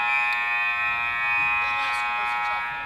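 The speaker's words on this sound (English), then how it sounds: "So the buzzer sounds" A steady electronic buzzer sounding at the end of a period in a high school varsity hockey game between the GBS Titans and the Lake Forest Scouts, held loud and unbroken for several seconds over faint arena noise.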